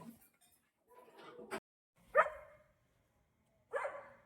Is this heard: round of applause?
no